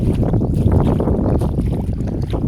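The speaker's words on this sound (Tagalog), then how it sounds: "Hangin man kayo." Wind gusts steadily across the microphone outdoors, a continuous loud rumbling buffet with no clear pauses and no speech.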